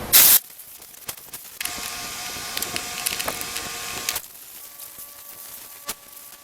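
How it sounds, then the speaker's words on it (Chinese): Lubricating oil is sprayed into the motor of a Makita DGA404 18V 4-inch brushless cordless angle grinder: a brief loud hiss of spray, then a longer, softer spraying hiss lasting a few seconds, with faint clicks around it. "我们直接把油喷进去。"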